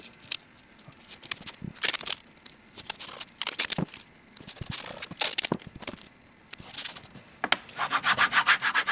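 Hand rubbing burnishes masking tape down onto a fabricated oil pan for a Datsun 670, heard as close, irregular scrubbing strokes in short bursts, ending with a faster rhythmic run of rubs.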